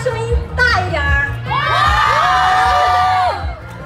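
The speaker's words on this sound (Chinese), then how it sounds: "这个时候 都是女生在尖叫" Girls scream and cheer in a dense crowd at the Mango Youth Festival, a sustained high-pitched roar swelling loud for several seconds after a few shorter bursts of shouting.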